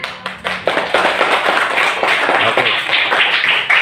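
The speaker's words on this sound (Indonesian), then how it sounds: "kita semua coba tepuk tangan" A classroom of children claps hands together in a loud, dense burst of slaps, a brief rhythmic start giving way to sustained, uneven applause up close.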